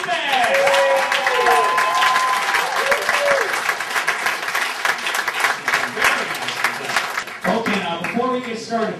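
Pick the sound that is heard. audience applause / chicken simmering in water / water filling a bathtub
audience applause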